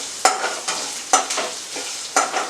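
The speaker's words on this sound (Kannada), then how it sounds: "ಈಗ ದೊಡ್ಡೂರಿ ಮಾಡಿ ಅದನ್ನು ಫ್ರೈ ಮಾಡ್ಕೊತೀನಿ" Black peppercorns and poppy seeds frying in oil for chicken chops, sharp scraping stirs in a regular rhythm about once a second over a light sizzle, close by.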